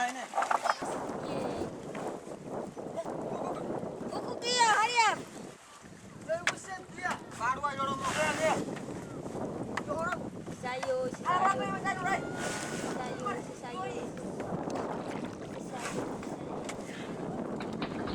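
Steady wind rushes past with broadband water and hull noise, a Papuan sailing canoe moving through breezy open water, with occasional voices and bird-like chirps in the background.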